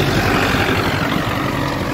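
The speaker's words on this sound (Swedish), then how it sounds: "Precis som traktorn här." Steady, loud low rumble of a tractor engine running close by, continuous and unchanging throughout with no talk.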